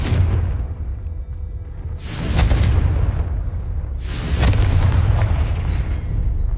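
Confringo fire spell explosions in Hogwarts Legacy: two heavy booming blasts that swell into long roaring rumbles, loud and close, with a dense low-end roar between them.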